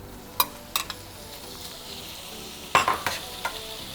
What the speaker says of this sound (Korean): 햄을 같이 불은 계속 중불 마늘 타지 않게 잘 뒤집어주고